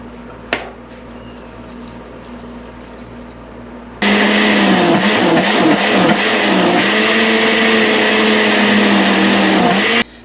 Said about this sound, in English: with the last blender full that you want to do